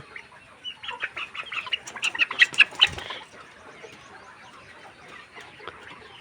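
Layer hens with swollen, watering eyes cluck in a rapid string of short calls for about three seconds, then fall quiet with only faint background noise.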